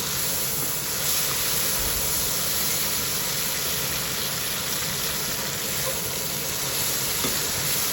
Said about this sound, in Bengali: মশলা কষানো হয়ে গেছে এর মধ্যে একটু জল দিয়ে দেবো যাতে মশলাটা লেগে না দেয়